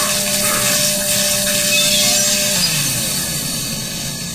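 A chainsaw runs in the video game Doom 3, a loud, buzzing engine drone that holds steady and then slides down in pitch as it idles back, with no talk over it.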